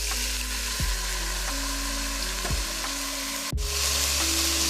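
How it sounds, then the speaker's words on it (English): Petite diced tomatoes going into a hot, sizzling pot for stuffed pepper soup, with a continuous loud sizzle broken by a few dull drops and a sharp clatter near the end, and no speech. "Now I'm going to add in my petite diced tomatoes."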